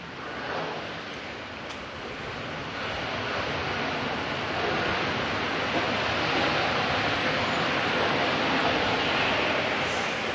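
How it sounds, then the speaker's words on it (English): Airbus A320 using reverse thrust after landing at Auckland Airport at night, a broad distant roar that swells gradually and holds steady, heard from outside. "Nice little bit of reverse thrusting there from the A320 coming up from Dunedin"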